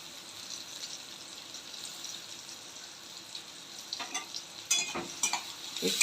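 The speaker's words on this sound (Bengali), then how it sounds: "হালকা করে একটু পেঁয়াজটা ভেজে নিলাম" Chopped onion and garlic fry gently in a pan for white sauce pasta, a soft steady sizzle with stirring, a few light clinks and scrapes growing busier near the end, no talking.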